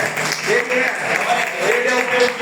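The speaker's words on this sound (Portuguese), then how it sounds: "Aplaudam a palavra de Deus." Church congregation applauding during a sermon, a steady wash of clapping hands filling the room, with a voice speaking over it.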